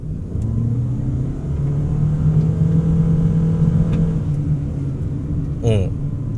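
Toyota Alphard AH40 MPV with a CVT accelerating, a steady droning engine rumble with a smoothly rising tone, heard from inside the cabin under someone talking, with a brief chirp near the end.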